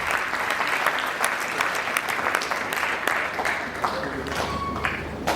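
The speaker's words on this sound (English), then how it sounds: "can you also give me a round of applause?" A school assembly audience at an anti-bullying event breaks into loud, close applause, dense clapping that holds steady throughout, with a brief tone and some voices mixed in near the end.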